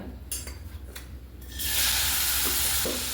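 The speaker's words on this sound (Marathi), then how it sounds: "यामध्ये आपण बारीक चिरून घेतलेला कांदा टाकून घेऊया" Finely chopped onion hits hot oil for a moong dal dosa, a few stirring clinks first, then a sudden loud, steady sizzle that swells and holds to the end, close up.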